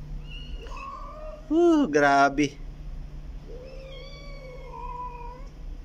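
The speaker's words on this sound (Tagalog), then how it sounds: "Dami ko pusa guys, oh." Several cats meowing near a person's home, one loud wavering, wailing meow in the middle flanked by softer, thinner meows before and after, with a brief spoken exclamation.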